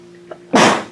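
A single sharp sneeze bursts out in a meeting room, loud and close, following a faint breath and a quiet room hum.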